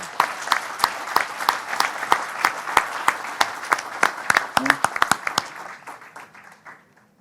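Audience at a surgical conference applauds a HoLEP laser prostate surgery demonstration: a run of sharp, spaced claps that thickens into a brief ragged burst, then tapers off into quiet, with faint crowd murmur.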